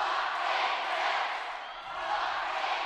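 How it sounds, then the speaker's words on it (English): A crowd at a European school cheerleading championship joins cheerleaders in a chant, a dense, loud, continuous wash of massed voices that dips briefly midway and then swells again. "Now they're going to lead the crowd in a little chant."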